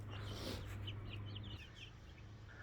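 Chickens, including young birds, in a backyard aviary fenced with hardware cloth give soft, scattered clucks and chirps at a moderate distance over a steady low hum.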